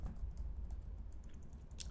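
Rapid keystrokes on a computer keyboard during number entry in accounting software, a steady run of close, soft clicks with no voices.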